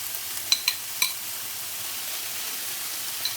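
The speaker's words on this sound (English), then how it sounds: "fry off my chicken." Chicken fries in a small pan, a faint, even sizzle with a few light clicks and scrapes of stirring early on.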